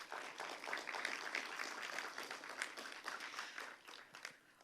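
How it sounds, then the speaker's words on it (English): An audience at an event gives a round of applause, with steady crowded clapping that holds for a few seconds before tapering off; it sounds faint and distant. "Let's give Seth one more round of applause."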